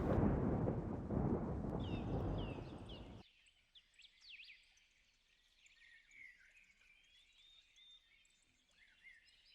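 A thunderstorm with a tornado approaching gives a heavy rumbling roar that cuts off abruptly after about three seconds, leaving faint bird chirps over near silence.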